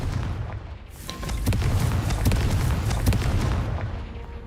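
A Confringo blasting spell explodes in Hogwarts Legacy, a loud rumbling boom with crackling debris and scattered pops that sustains for several seconds, with no talk over it.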